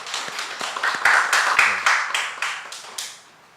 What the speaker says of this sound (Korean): 박수를 치야 또 잘 나올 것 같아.